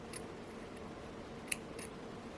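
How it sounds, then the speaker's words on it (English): Scissors snip jewelry thread with a few quiet, crisp clicks and one sharper cut close by, set against a faint steady hum. "I will cut with the scissors"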